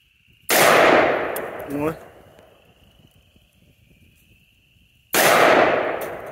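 Two loud, sharp gunshots fired while sighting in a hunting weapon, spaced several seconds apart, each with a sudden crack and a trailing echo, and a short spoken word between them.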